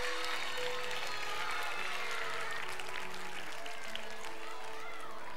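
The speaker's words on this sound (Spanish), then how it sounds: "¡Un aplauso a Fausto!" An audience at a magic gala applauds, a dense, steady wash of clapping hands that fills the room evenly for several seconds at a moderate distance.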